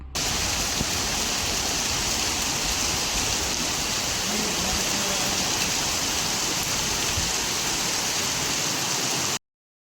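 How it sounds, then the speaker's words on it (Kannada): Heavy rain falls at night in a dense, unbroken hiss that holds steady for nearly ten seconds, then cuts off abruptly, with no voices over it. "ಫುಲ್ಲು ನೈಟ್ ಮಳೆ ಬರ್ತಾಯಿತ್ತು, ಅದ್ರ ವೀಡಿಯೋನ ಸ್ವಲ್ಪ ಹಾಕ್ತೀನಿ ಅಷ್ಟೇ"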